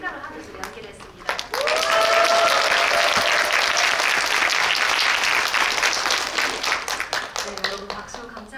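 Cinema audience at a guest visit screening in Megabox COEX breaks into loud, sustained applause, a dense wash of clapping that swells quickly after a spoken line and fades out near the end, with voices heard before and after.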